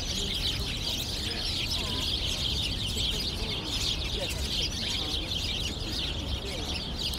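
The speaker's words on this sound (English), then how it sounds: "Starlings and sparrows." Starlings and sparrows chirp steadily in a dense outdoor chorus, a continuous bright twittering, with a voice faintly under it at times.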